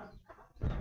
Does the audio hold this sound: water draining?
no